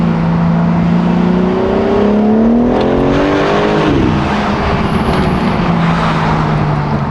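A BMW M4 Competition engine drones steadily, then its pitch climbs and falls as it revs, a loud continuous exhaust tone close by.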